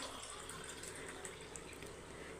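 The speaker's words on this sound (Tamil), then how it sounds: "இப்போ பசங்களுக்கு ஜூஸை ஊற்றி கொடுத்துடலாம்" Juice pouring into glasses for children in a home kitchen, a steady close liquid stream that runs without a break, with no voices.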